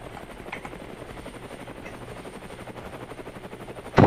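A helicopter in the video game Brick Rigs makes a steady, rapid rotor chop throughout, with a sharp burst near the end.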